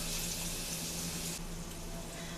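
Onions dropped into melted butter in a pan, a steady bright sizzle with a dense hiss that eases slightly partway through.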